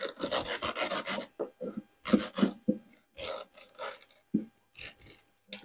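Knife cutting through a motorcycle tire along the tread to shape a toucan, heard as close, rasping strokes in short bursts with brief pauses between them.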